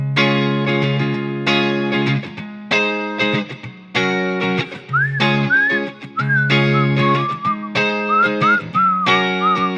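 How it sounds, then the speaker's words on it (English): A person whistles a sustained, cheesy major-key chord melody, clear and close, with steady tones interrupted by brief gliding slides and trills across about ten seconds, no talking. "It doesn't help that I whistle, right?"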